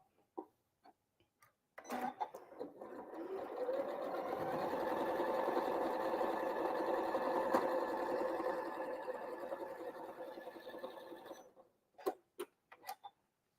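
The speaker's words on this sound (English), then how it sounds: "And we're going to sew it right across." A sewing machine runs steadily for about ten seconds, stitching straight across pieced quilt block fabric, with a few faint clicks and handling sounds before and after the continuous whirring run.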